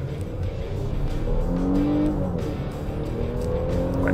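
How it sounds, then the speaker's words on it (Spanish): A Nissan Pathfinder SUV in Sport mode accelerates at full throttle from a stop, its engine note rising steadily in a loud, continuous drone heard from inside the cabin. "Lo pongo en Drive, verifico que esté en modo Sport. Acelero a fondo"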